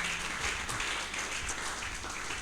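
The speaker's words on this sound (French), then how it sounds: "Applaudis fortement pour l'Éternel." Faint, steady applause from a church congregation at a Sunday worship service, a dense wash of many hands clapping at a distance with no break.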